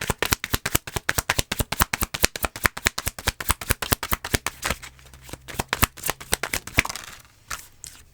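A deck of tarot cards is shuffled in a fast, crisp riffle of rapid snapping flutters, close up, then slows to a few scattered card taps as cards are drawn.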